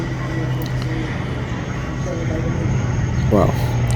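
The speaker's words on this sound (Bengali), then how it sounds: "সুন্দর একটি বিমান পাখিদের সাথে খেলা করে মাঠে প্রবেশ করছে এটি হচ্ছে ওয়াইটোকে এয়ারলাইন্স কার্গো বিমান" A YTO Cargo Airlines freight plane rolls onto the airfield with a steady low engine rumble and drone throughout, moderately loud, with a brief voice near the end.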